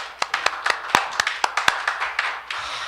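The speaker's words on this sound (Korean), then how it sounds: "이 복주실 하나님께 영광의 박수 한번 돌립시다." A church congregation gives a round of applause during a Korean sermon: a dozen or so sharp, distinct claps spaced irregularly over a few seconds, fairly close and alone, with no talk over them.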